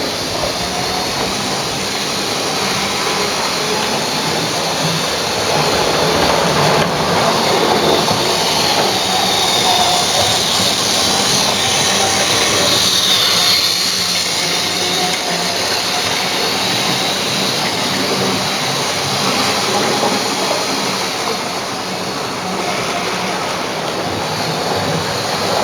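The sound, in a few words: model railway train running on dirty track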